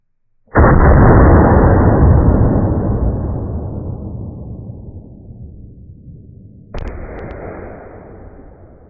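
A single loud .40 Super shot from a 5-inch 1911 pistol firing DoubleTap 125-grain lead-free rounds, a sharp blast with a long rolling decay outdoors, then a second crack-like echo or report a few seconds later.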